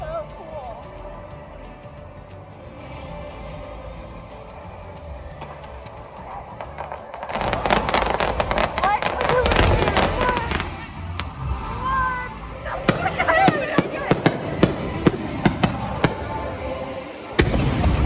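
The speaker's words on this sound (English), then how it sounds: "Look at all the fireworks." Fireworks bursting at Universal Orlando at night, a quiet stretch giving way to a dense run of sharp cracks and pops overhead, with several louder distinct bangs near the end and people talking underneath.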